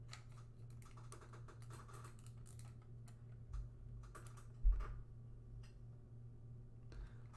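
Typing on a German computer keyboard, a quiet run of irregular key clicks over a steady low hum, with one louder knock partway through.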